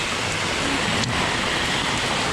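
Rain pours steadily on a rainy day on Hong Kong Island, a loud even hiss with no talking.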